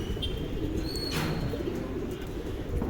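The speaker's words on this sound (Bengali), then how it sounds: "খুবই সুন্দর কবুতর এগুলো" Black Mamba Safchila pigeons cooing softly in a loft, low murmuring coos close by with a brief chirp and a faint flutter.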